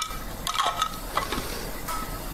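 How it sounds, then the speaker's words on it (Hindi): Mustard seeds, green chili and curry leaves crackling in hot coconut oil in a pan, a soft sizzle with a few sharp pops and spatters, fairly quiet and close. "मैंने ये पैन में थोड़ा सा नारियल का तेल लिया, एक मिर्ची, थोड़ा सा सरसों और थोड़ा सा कड़ी पत्ता, इनको मैं चटका रही हूँ।"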